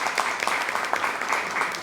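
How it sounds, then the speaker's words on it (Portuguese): Audience applause at a ceremony honouring the National Archive director in Aruba, a steady wash of many hands clapping close and fairly loud, dense and continuous without talk. "Forte aplauso para o trabalho com a dirigir."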